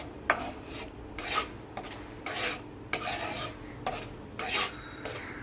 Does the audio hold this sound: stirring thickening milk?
yes